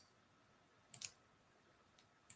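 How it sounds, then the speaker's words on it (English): Quick keystrokes on a computer keyboard, a few faint clicks in short bursts, close by and alone in a quiet room. "I'm just typing this in real quick."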